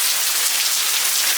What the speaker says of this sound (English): girl, this rain though